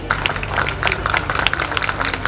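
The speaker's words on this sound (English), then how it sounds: "Can we have a big round of applause for all these teachers, please?" An audience at a school annual function claps for the teachers, steady scattered applause from a crowd filling the hall, moderately loud and continuous throughout.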